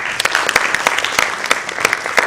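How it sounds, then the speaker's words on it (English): Audience applause after presentations at a breakfast event, close and fairly loud, with distinct individual claps standing out over a steady patter of clapping. "Let's give them a round of applause."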